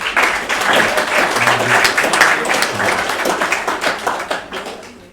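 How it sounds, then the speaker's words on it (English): Audience applause and clapping at a 2021 prizegiving, steady and fairly loud throughout, with a few voices mixed in. "So a big clap."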